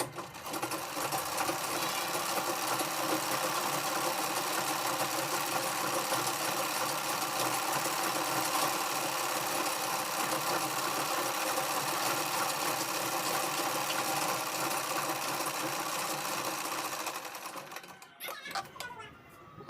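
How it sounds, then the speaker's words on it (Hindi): A sewing machine stitches across the waist of a lined blouse in a steady, continuous whirring run for about seventeen seconds, then stops, leaving a few faint handling clicks. "अब हम कमर पर भी ऊपर से एक सिलाई इसमें लगा देंगे।"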